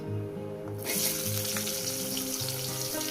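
Onions dropped into hot oil with bay leaves and sugar, a quiet hum giving way to a sudden, steady bright frying sizzle that carries on close by, with a low tonal background and no talk.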